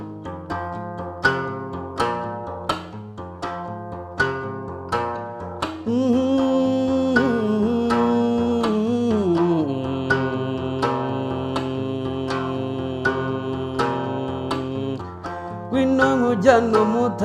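Inanga, the traditional Rwandan string instrument, played live: steady, resonant plucked-string notes with a ringing, buzzy tone, joined partway through by a sustained singing voice that continues over the plucking.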